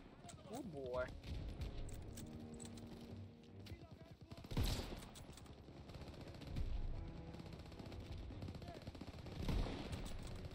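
Machine-gun fire from a Mac 38 gun position in the World War II shooter Call of Duty: WWII, during Operation Cobra, with bursts and heavy booms around the midpoint and near the end, mixed with constant talk and battle noise.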